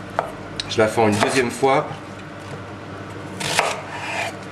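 A knife splits and cuts endive on a board, giving several quick chopping knocks and scrapes up close, followed by a sharper clatter, while a person speaks briefly.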